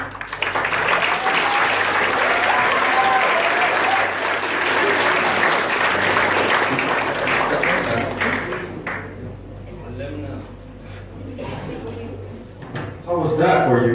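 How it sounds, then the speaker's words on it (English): A classroom audience applauds students after their speech, dense steady clapping that holds for about eight seconds, then thins out and fades while voices murmur and a few scattered claps remain. "We clap for the teachers, so let's clap for the students, don't we?"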